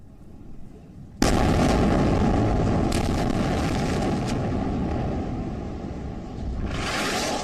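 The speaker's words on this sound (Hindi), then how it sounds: "इजराइल की वायुसेना लगातार गाजा में हमास के ठिकानों को बम से उड़ा रही है" Bombs exploding in Israeli airstrikes on Hamas sites in Gaza: one sudden heavy blast, followed by a long loud rumbling roar that slowly fades, then swells again at the end.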